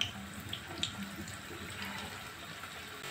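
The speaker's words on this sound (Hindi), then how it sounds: "तो अब हम डालते हैं इसमें कोफ्ते अपने।" Chicken koftas fry in hot oil over high heat, making a soft, steady sizzling hiss with a few faint pops, heard alone and fairly quiet.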